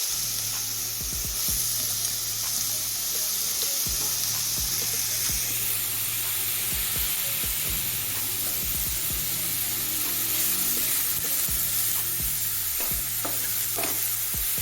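Grated papaya dropped into a hot pan with mustard seeds and dried chili, giving a steady close sizzle and hiss with scraping stirring clatter throughout, no talk.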